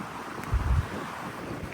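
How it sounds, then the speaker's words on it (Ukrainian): Gusty wind buffeting outdoors in the Carpathian highlands, with a brief low rumble of a stronger gust partway through; no rain, no one speaks. "Трошки вітер, але зато немає дощу."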